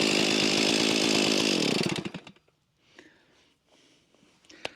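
A Stihl MS461 chainsaw running aftermarket parts roars at high revs cutting into wood, then winds down and drops off, leaving quiet idling sputters and faint clunks.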